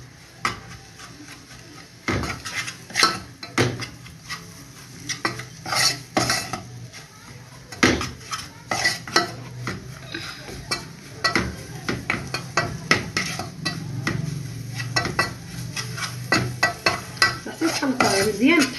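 Butter and flour are stirred together in a pan for béchamel, a utensil clanking and scraping against the metal in irregular bursts over a low sizzle, close by with no talking.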